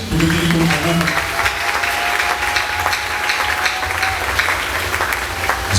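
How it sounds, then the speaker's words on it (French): Church congregation applauding in praise of the Lord during a French-language sermon, steady dense clapping throughout with a brief tonal note and some background voices mixed in. "Acclamons le Seigneur."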